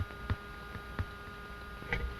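Very faint light taps on the end of a stethoscope, picked up through the instrument: a few soft, irregular ticks over a steady low hiss.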